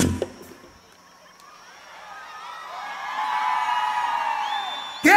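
A crowd at a lively Mexican corrido music event whoops and cheers, swelling from quiet to a sustained roar of voices midway through, with a sharp burst at the end.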